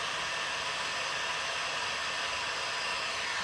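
A hair dryer runs steadily to dry decoupage on a wood slab tray made over as a charcuterie board, giving a loud continuous broadband whoosh for the whole stretch with no pauses or voices.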